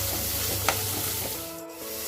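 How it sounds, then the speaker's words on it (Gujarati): Potatoes sizzling in a pan while being stirred for batata poha, a steady frying hiss with a brief scrape of the spoon, close and continuous with no talk. "હવે આ બટાકા પણ અંદર નાખી દઈશ. બરાબર એને હલાવી દઈશું."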